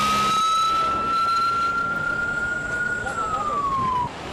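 A fire engine siren wails steadily at a distance, holding one pitch before dropping slightly, over a rumbling background of wind and traffic.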